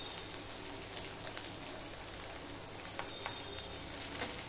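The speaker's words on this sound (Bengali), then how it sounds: "এবার দিয়ে দিচ্ছি পেঁয়াজ, দিয়ে দিলাম রসুন" Chopped onion and garlic frying in hot oil after whole spices have been tempered, for a Bengali vegetable and prawn curry. A steady, close crackling sizzle runs throughout with scattered pops and no talking.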